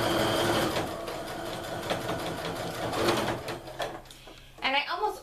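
A sewing machine stitches sweater-knit mittens in a steady, continuous hum that fades near the end, and a short stretch of talk follows.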